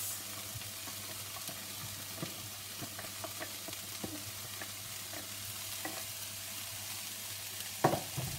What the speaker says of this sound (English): I'm putting onion and peppers, and I'm going to fry those for about 5 minutes